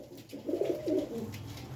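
Small pigeon with black eyes and a white-tipped beak cooing in a few soft, close rising calls over a low background hum.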